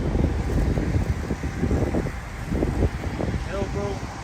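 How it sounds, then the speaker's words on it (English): Wind gusts across an outdoor microphone, a steady rushing roar with buffeting low rumble, while people talk over it. "Of course, it gotta be windy too right now."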